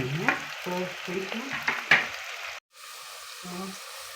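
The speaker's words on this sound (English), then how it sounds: "I'll let my onions cook until they brown." Onions fry and sizzle in a pan for sausage pilau, with bursts of stirring and scraping in an irregular rhythm, close and moderately loud, with a brief silent gap near the end.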